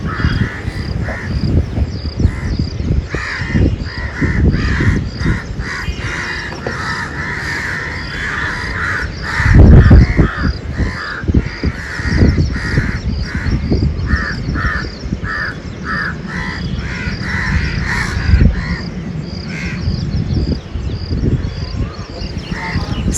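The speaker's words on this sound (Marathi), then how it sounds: "आज बाजूच्या झाडावर कावळ्यांचा खूप आरडाओरडा चालू होता" Crows caw loudly and repeatedly from a tree close by in a village yard, harsh calls overlapping in a constant, busy chorus.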